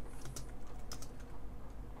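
Rapid, light key clicks from a Subblim Keytab Pro BT Bluetooth keyboard case for a tablet, typed at close range in an irregular rhythm with no voices.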